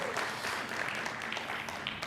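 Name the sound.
audience applause for a child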